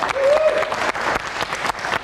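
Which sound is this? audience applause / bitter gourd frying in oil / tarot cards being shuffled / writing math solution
audience applause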